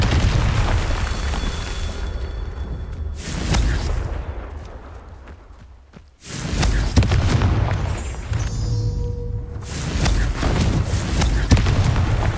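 Repeated Confringo fire spell blasts from a Harry Potter video game, loud deep booms with rumbling tails, separated by a brief near-silent gap and a shimmering chime-like spell effect.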